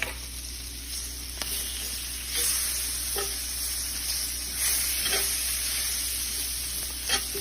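Onions and all-purpose flour cooking down in a pan, giving a steady close sizzle with a few louder scrapes and stirs along the way.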